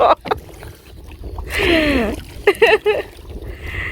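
A boat moves through water with sloshing and splashing strokes, rising in a surge midway, while voices call out nearby.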